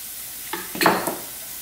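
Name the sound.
bitter gourd added to a frying pan and stirred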